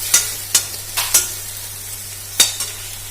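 Fenugreek leaves (menthi koora) cooking in a pan, with a few sharp spoon scrapes and clicks spaced irregularly over a faint steady background hum.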